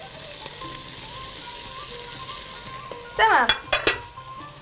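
Fresh spinach going into a hot pan of chickpeas and being stirred: a quiet background sizzle, then a burst of clattering, scraping utensil strokes against the pan near the end, with a brief spoken word.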